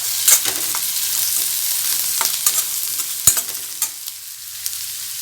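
Onion and garlic sauté in a hot pan with a steady, close sizzle, broken by repeated scraping stirs and light clinks of the spoon against the pan.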